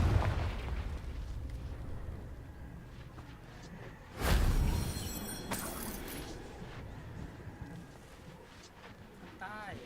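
A Confringo explosion spell in Hogwarts Legacy, a single loud burst with a broadband crash at mid-clip that trails off over a couple of seconds, set against ongoing game sounds and background music.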